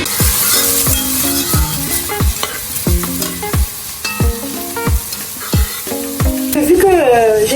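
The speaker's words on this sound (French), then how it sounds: "Vu que j'ai déjà mis à frire les condiments et la tomate" Condiments and tomato frying in a pan, with a constant loud sizzle broken by a regular series of metallic scraping stirs and clinks of a utensil against the pan, close up and without talk.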